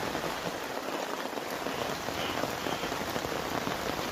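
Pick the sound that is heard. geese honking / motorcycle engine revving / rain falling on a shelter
rain falling on a shelter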